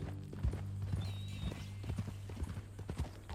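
Horse hooves clip-clop at a steady walking pace in Red Dead Redemption 2, soft and repeated under a low ambient hum with a brief high whine.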